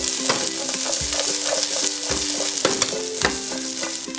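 String beans hit a hot pan with scallion and onion, a bright steady sizzle punctuated by rhythmic knocks and scrapes of a spatula stirring, close and loud, no voices.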